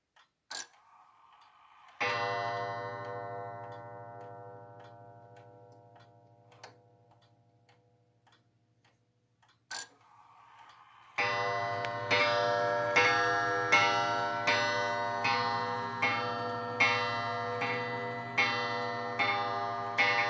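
A Carl Werner Vienna style wall clock with count wheel striking on a coiled gong: a resonant gong strike rings and decays, then a steady, close tick-tock beats evenly and alone.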